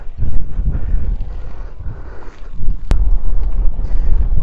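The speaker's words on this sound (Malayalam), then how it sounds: "കാറ്റ് നല്ല കാറ്റുണ്ട്" Strong wind buffets the microphone on an exposed rock summit at Thangal Para in Vagamon, a steady low rumbling roar with gusts that swell and ease throughout, one sharp click partway through.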